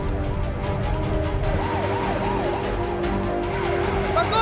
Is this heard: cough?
no